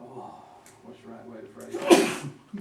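A single sharp sneeze bursts out during a county planning and zoning meeting, loud and close, right after someone speaks and with his talk around it.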